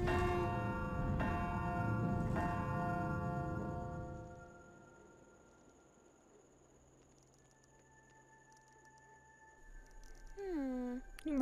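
A dragon's bell in the game Anna's Quest, struck twice in deep resonant tolls whose ringing decays slowly into quiet, followed near the end by faint chirpy game sounds; a voice is heard speaking.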